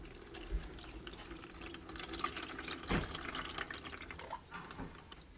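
Water draining and dripping after plants are watered, close and quiet, with soft trickling and scattered irregular drips, a couple of louder splashes standing out.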